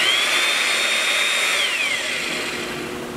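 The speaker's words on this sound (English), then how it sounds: "110-volt single-phase Pullens" A Poulans P-200 110-volt single-phase horizontal wheel puller runs with a steady, loud mechanical whine and a high tone that holds and then glides downward as it slows slightly, with no talk.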